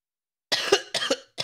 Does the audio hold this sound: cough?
yes